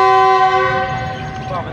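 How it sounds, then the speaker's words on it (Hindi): A GEU 40 diesel locomotive at Sahiwal railway station sounds a short, loud, tonal departure horn that fades within two seconds, with faint voices nearby. "तो दोस्तों 1 अप ने अपना डिपार्चर विसल दे दिया है।"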